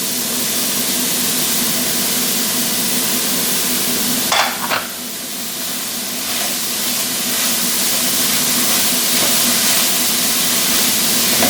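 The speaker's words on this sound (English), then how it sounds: "now what I'm going to do is add the veggies in" Chopped vegetables and onions sizzle in a hot pan for savory Indian-style oats, a loud steady frying hiss with a couple of brief clatters partway through, close up and without talk.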